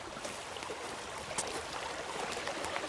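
A small stream flows in the countryside as a steady, close wash of trickling, burbling water with no talk over it.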